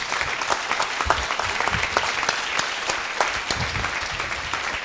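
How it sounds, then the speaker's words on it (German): Conference audience at a camp welcome session applauds steadily, a dense, even clatter of many hands filling the whole stretch at moderate loudness, with no talk over it. "Die brauchen einen großen Applaus da hinten."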